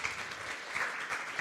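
Steady clapping from a crowd at a regional business summit, dense and sustained, with no voices over it.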